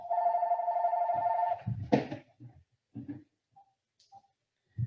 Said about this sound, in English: so yeah, the phone rang, I apologize